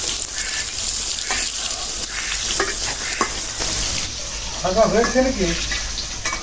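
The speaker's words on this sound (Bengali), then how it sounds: "মাছ ভাজা হয়ে গেছে এখন বেগুন ভাজতেছি" Fish and eggplant sizzle and crackle steadily in hot oil, with a spatula stirring now and then and a voice briefly murmuring nearby.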